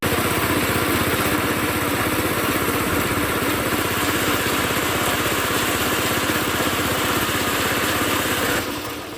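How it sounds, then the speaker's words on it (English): Engine-driven grinder at a local grinding spot blending tomatoes for stew, a loud, steady motor drone running without a break for about nine seconds, then easing slightly at the end; no talking. "I got some tomatoes and went to a local grinder so I could blend my tomatoes to make stew."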